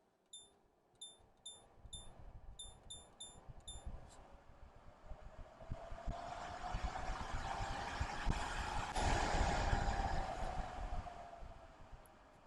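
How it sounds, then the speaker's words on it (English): A Kalado smart Wi-Fi air purifier chirps through a quick series of control beeps, then its fan ramps up to top speed into a steady, rising broadband whoosh that swells and holds near the end. "Now some people like a fan noise, and I think that would definitely fulfill the need of creating a little bit of a fan noise."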